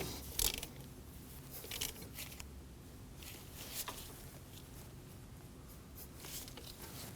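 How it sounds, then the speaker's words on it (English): A ratchet tightens a brake hose banjo bolt on a 2013-2015 Subaru XV Crosstrek with soft, close clicking and light metallic ticks over a quiet background, including a few sharper knocks. "We'll tighten down the banjo bolt, being cautious not to over-tighten."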